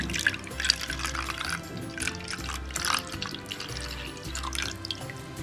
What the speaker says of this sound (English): First goes in the buttermilk.